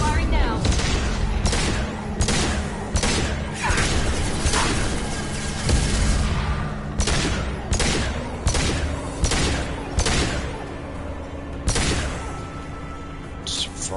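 Rapid, loud bursts of weapon fire in Mass Effect 2 Legendary Edition, repeated volleys of sharp shots with brief pauses between them, close and dense throughout.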